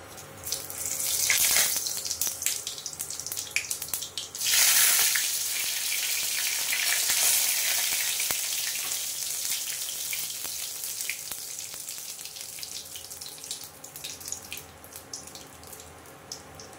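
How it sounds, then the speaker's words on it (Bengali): Cumin, cardamom, cinnamon and bay leaf tempering sizzling in hot oil, a loud broadband hiss that flares sharply near the start and around five seconds, then settles into a steady crackling fry, with no talking. "তারপরে এই দেখো ফোড়ন, জিরে, এলাচ, দারচিনি আর তেজপাতা, এটা আমি দিয়ে দেবো"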